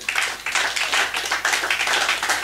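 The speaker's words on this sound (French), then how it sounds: "Applaudissons pour la gloire de Dieu." Congregation clapping rhythmically at a church service inaugurating a new hall, close and loud, with sharp repeated hand claps in a steady pulse.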